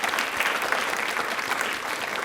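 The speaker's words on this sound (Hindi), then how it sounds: "बट एक बार तालियां प्लीज" Studio audience at a televised general-knowledge quiz show applauding steadily, a dense, even wash of many clapping hands that fills the whole stretch without pause.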